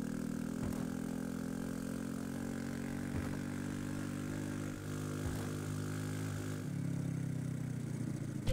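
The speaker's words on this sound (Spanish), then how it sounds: "Vamos a probar una cosa primero con la moto." Steady motorcycle engine drone in the ski-lift video game When Ski Lifts Go Wrong, a continuous mid-pitched idle-like hum that holds level throughout with no talking over it.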